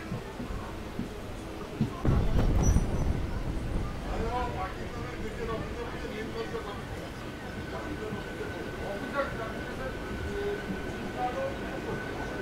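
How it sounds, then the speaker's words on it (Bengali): A local train rolls into Digha railway station, a steady rumbling wheel and carriage noise with a louder burst early on and a faint high tone later, heard from aboard with voices talking under it. "বন্ধুরা আমার ট্রেন ঢুকছে দীঘা রেলওয়ে স্টেশন।"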